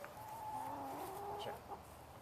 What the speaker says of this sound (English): This is my biggest chicken